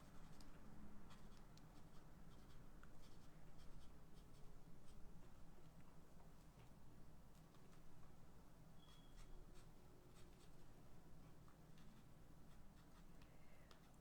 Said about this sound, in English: I'm just going to add like some kind of some scratchy lines here so that it looks like wood